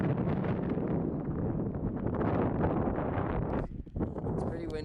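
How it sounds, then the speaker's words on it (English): Strong wind buffets the microphone in a continuous roaring rumble at Devil's Orchard, Craters of the Moon National Park, easing slightly near the end. "It's pretty windy"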